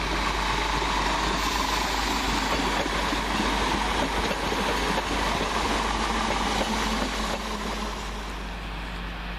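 A Govia Great Northern Class 313 electric train on the London King's Cross to Welham Garden City service passes Welham Green station, a loud, steady roar of wheels and motors close by that eases slightly near the end.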